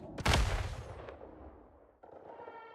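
Turret fire strikes a player's ship in the space game Elite Dangerous, a loud booming blast up front that rumbles and fades, then a sharper crackling burst near the end.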